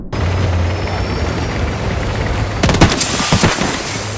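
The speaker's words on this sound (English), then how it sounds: "Gunfire echoes differently depending on your surroundings." Gunfire in the Battlefield 6 video game: a steady rotor-like engine drone fills the scene, then loud, close bursts of rapid automatic shots crack through it near the end.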